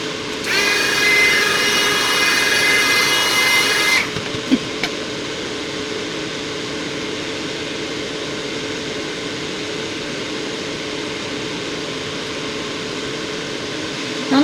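A Resiners Purair air purifier runs with a steady, broad whoosh of strong air movement, loud and constant through the whole stretch, while a separate high whining hiss stops after about four seconds; no talking.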